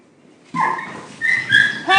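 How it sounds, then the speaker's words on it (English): Dog scuffle with a puppy: sharp yelps and whimpering bursts break out after a quiet start, then come in short uneven outbursts, fairly close and loud. "one of my dogs just went after the puppy a little too hard"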